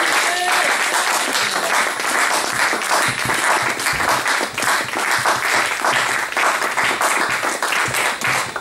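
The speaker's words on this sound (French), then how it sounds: "Est-ce qu'on peut acclamer très fort pour la gloire de Dieu?" A church congregation applauds and cheers loudly for the glory of God after a sermon, with a dense, steady wash of clapping and voices filling the whole stretch.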